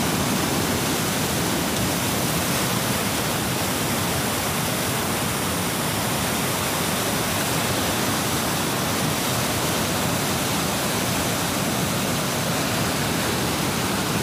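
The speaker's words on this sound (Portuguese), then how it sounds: "Olha, olha a força da água." Strong floodwater rushes past a submerged rock in a river, a loud, unbroken broadband roar of churning water that stays constant from start to finish with no voices.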